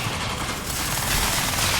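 Dense, continuous crackling bursts of an electric weapon firing in the video game Crysis 3, loud and sustained with a rising roar toward the end.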